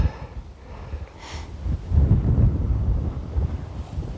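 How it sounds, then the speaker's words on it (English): Gusts of wind buffet the microphone on the England Coast Path between Grain and High Halstow, with low, rumbling bursts that swell and fade, and no one speaks. "Right, windy today."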